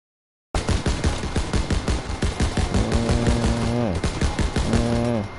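Rapid, loud automatic gunfire in the World War II shooter Call of Duty: WWII, a sustained burst of close shots in quick rhythmic succession, with brief lulls and layered sound effects after an initial silence.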